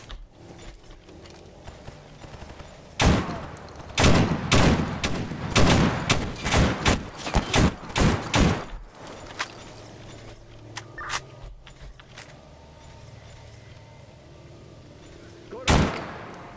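Gunfire in the shooter game STALKER Anomaly, a cluster of sharp loud shots in quick bursts followed by a lone report later, with mechanical clicks and quiet stretches between.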